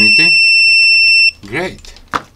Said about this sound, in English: it will give a continuity test between these two points